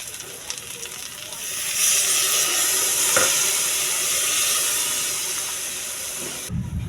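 Water is poured into a hot pan of mustard egg curry and sets off a loud, hissing sizzle that swells to a steady rush of steam, then eases slightly before a clunk at the end.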